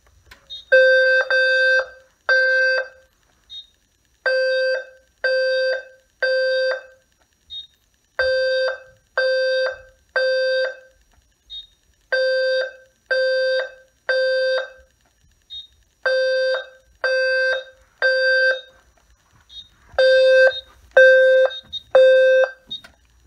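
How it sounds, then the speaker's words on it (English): A smoke detector sounds its alarm during a magnet test, giving loud repeating groups of three sharp electronic beeps with short pauses between groups, steady and close, with no talking. "let us now magnet test the smoke detector"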